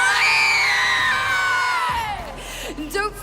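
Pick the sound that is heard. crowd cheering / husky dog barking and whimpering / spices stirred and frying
crowd cheering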